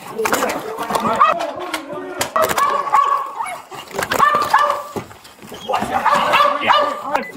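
A police K-9 dog deployed to flush an armed fugitive from a barn in Ohio barks, whines and yelps in bursts amid shouting voices, close and loud throughout.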